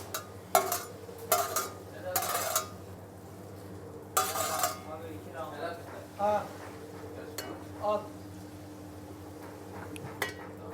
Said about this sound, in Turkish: şu anda ıslak ıslatılmış bamyalarımızı şöyle tenceremize alıyoruz